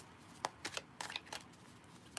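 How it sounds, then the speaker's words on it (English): Close, quiet hand shuffling of a tarot deck gives a string of crisp card snaps and riffles in an irregular rhythm, each brief and bright against a near-silent room. "watch as I shuffle"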